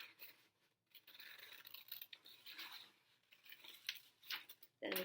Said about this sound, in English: grab your scissors and just cut around the flower that you guys made.